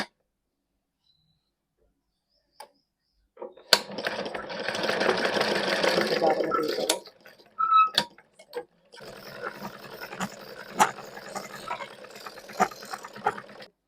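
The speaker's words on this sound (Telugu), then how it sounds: "ఇట్లా ఒత్తి పట్టుకొని మిషన్ దొక్కితే దారం అయితే కుడుతుంది." Sewing machine run to wind thread onto the bobbin, a steady mechanical whirring burst of about three seconds, then a pause and a softer, longer stretch of running with light ticking clicks, close and alone without talk.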